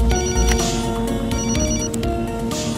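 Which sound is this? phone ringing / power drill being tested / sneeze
phone ringing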